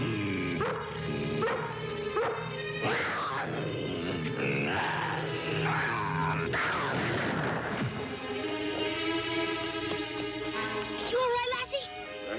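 A dog yips and whimpers excitedly in short bursts, mixed in with people talking and background music.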